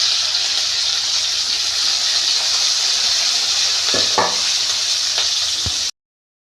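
Curry leaves and dried red chillies sizzle loudly and steadily in hot oil while tempering for sambar, with a few brief clinks and stirring knocks near the end before the sound cuts to silence.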